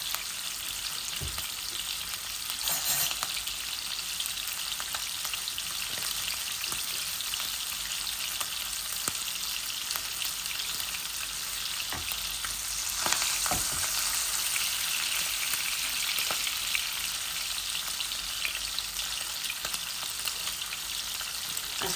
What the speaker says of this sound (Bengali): মাছগুলা বাজিলাই।